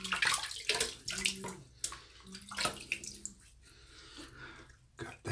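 Water splashes in quick, irregular bursts as hands scoop from a sink to wet the cheeks before shaving, close and intimate, with drips and short gaps between splashes and no talking.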